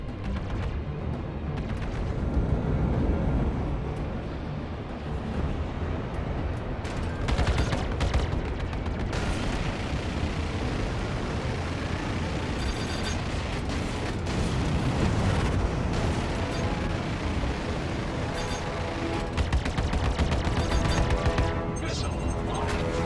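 Spaceship weapons firing in the space-combat game Arena Commander, a dense continuous barrage of blasts and rumbling explosions under occasional cockpit voice alerts.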